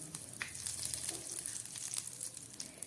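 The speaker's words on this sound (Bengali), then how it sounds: "তার মধ্যে আর দিয়ে দিচ্ছি একটু কালো জিরে ফোড়ন" Nigella seeds sizzle in hot mustard oil left over from frying eggplant, a steady close crackle of frying with small pops, no voices.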